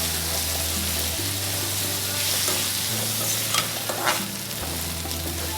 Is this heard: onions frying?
yes